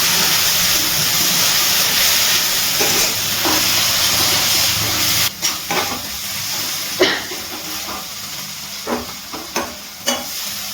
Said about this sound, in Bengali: গ্যাসের ফ্লেমটা হাইতে রেখে মশলাটা ভালো করে মিশিয়ে কষিয়ে নিয়েছি।